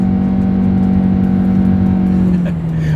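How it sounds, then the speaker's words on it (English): A 2025 Toyota Corolla Cross with a CVT accelerates uphill while merging onto a highway, its engine drone loud and steady before the pitch slides down near the end, heard from inside the car. "let's see how quickly we can get our new 2025 Toyota Corolla Cross here up to speed"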